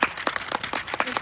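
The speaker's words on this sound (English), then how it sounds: "Yes, clap for yourselves." Leadership camp participants clap at a closing ceremony, a short burst of a few hands with separate, uneven claps close by at a moderate level.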